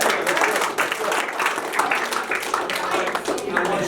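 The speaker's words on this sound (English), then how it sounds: "I'll get a round of applause" A crowd at a national youth football championship event breaks into thick, continuous applause, loud and steady throughout, with a voice talking over the clapping.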